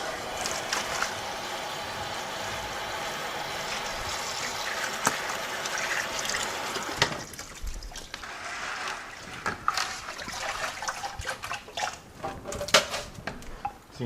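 Water from a garden hose runs at a sink over pea seeds, a steady close trickle and splash that gives way to irregular sloshing and dripping.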